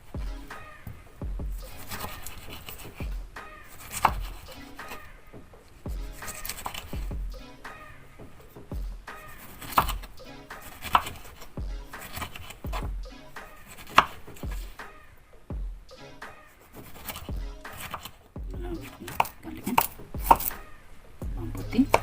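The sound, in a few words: cutting food with a knife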